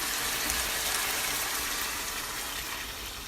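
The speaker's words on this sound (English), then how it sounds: "Now that it's dried up, I'm gonna go in with my water." Water pours steadily into a pot of chicken pelau with rice and peas, a continuous close splashing gush with no talk.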